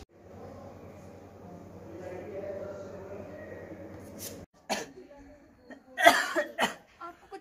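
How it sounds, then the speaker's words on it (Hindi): A patient coughs in a clinic setting during a tuberculosis awareness event, several harsh coughs in a cluster after a stretch of low background hum and shuffling, fairly close and moderately loud. "आपको कुछ ज्यादा खांसी हो रही है?"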